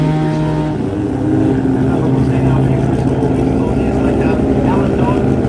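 Car engines rev and drone loudly during burnouts at a Brisbane car jamboree, a continuous rumbling roar with a crowd and voices mixed underneath.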